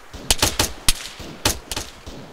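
Bursts of gunfire in the military shooter game Arma 3: several sharp shots in quick clusters, a short volley, a single crack, then another rapid group, fairly close and loud with no talk over them.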